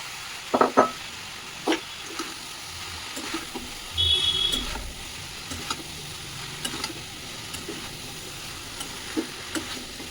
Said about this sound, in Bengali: এবারে আমি যা তরকারি করেছি সেই তরকারিগুলো এর সাথে আমি মিশিয়ে দিচ্ছি